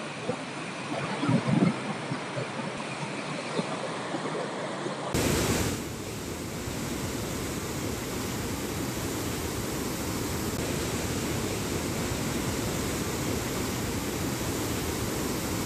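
Water pours through the 41 opened gates of Hatnur Dam in Jalgaon, a loud, steady, broadband roar that runs continuously for the whole stretch after a brief quieter opening with faint handling noise.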